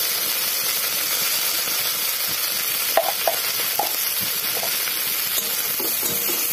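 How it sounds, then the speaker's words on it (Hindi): Okra (bhindi) fries in a pan with turmeric and salt, giving a steady, moderate sizzle with a few scattered clinks and scrapes from stirring, and no talking. "देखिए भिंडी को ऐसे फ्राई करते हैं"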